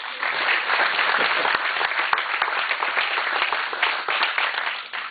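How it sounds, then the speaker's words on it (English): A crowd at a Connecticut political rally applauds, a full, sustained round of clapping with a few sharper claps popping out, sounding slightly muffled and holding strong before easing off at the end. "Let's applaud."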